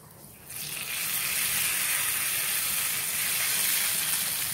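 Whole black peppercorns frying in hot oil for daleem (haleem), a steady loud sizzle that starts suddenly after a half-second and keeps on evenly, heard alone.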